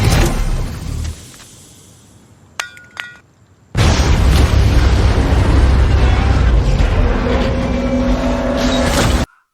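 A thrown explosive blasts an armored bank truck and flips it over in a film scene: a brief burst and clatter, a quiet gap, then a sudden loud, sustained roar of boom and rumbling debris that fills the rest.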